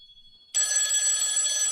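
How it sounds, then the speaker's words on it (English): After half a second of near silence, a telephone suddenly starts ringing for an incoming call. The electronic ring is bright and steady, close and loud, and lasts to the end. "I'm getting another call, James."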